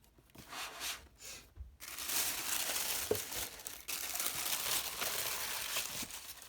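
Packaging of an Orange Art Box subscription box being opened by hand, close crinkling and crumpling of paper or plastic wrap in short bursts, then a longer continuous rustle, with no voices.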